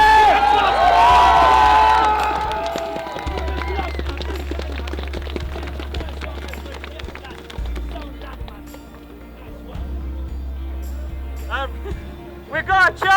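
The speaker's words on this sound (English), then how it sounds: "give him a clap. Oh, give him a clap." Scattered clapping from a crowd at a refugee and asylum seeker dignity march, with voices talking over it early and a louder burst of claps near the end.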